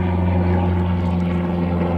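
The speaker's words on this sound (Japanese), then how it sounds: "空にはヘリが飛んでおります" Helicopter flying over a lake during wild fishing, a steady loud rotor and engine drone holding constant throughout with no voices.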